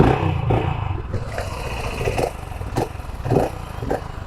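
A BSA Goldstar 650 motorcycle engine running close by during a test ride, a loud steady rumble with several rises and falls in revs.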